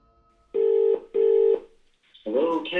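A recorded phone call plays back with two clear, even ringing tones, then a voice answers over the line.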